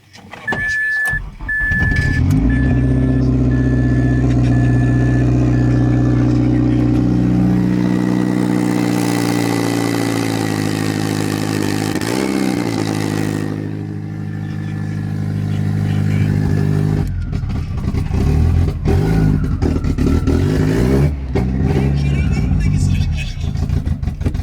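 Mazdaspeed 6 engine idling with a steady low rumble, rising briefly into a rev midway and settling back, with a faint whine early on and loud close-up engine noise throughout.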